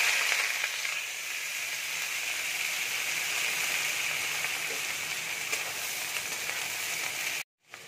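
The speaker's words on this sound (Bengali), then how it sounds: "পেঁয়াজটা দেখো আমি লাল করে ভেজে নেব" Onions sizzle steadily in hot oil with dried chillies, a dense, even hiss that runs unbroken and close, then cuts out abruptly near the end.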